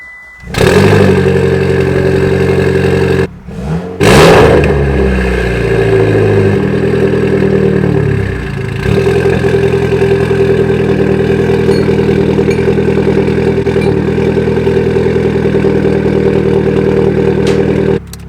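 A Mitsubishi Lancer Evolution X with an ETS Extreme V2 aftermarket exhaust idles with a deep, throaty note, revs sharply a couple of times early on, then settles into a steady rumbling idle.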